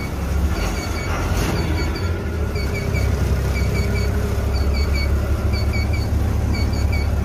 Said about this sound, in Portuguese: Mas eu só queria sentir o ronco desse motor. Ele é diferenciado, ó. Olha o barulho. Barulho muito macio.